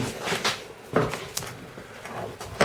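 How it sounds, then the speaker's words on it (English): A door swings open on a 1991 Chevrolet S-10 pickup with rust damage. A few quiet clunks and latch clicks come at moderate distance, with a sharper knock at the end. "if we open this door"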